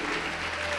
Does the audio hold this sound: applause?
yes